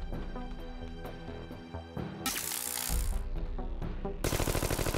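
Automatic rifle fire in the zombie game Chainsaw Warrior: mechanical clicks and clatter give way to loud rapid bursts of shots, the last a fast rattling volley, with no voices.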